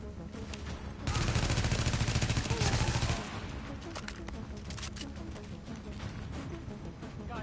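Burst of automatic gunfire from The Division video game, dense and loud for about two seconds, then lighter scattered shots continuing under game ambience and faint voices.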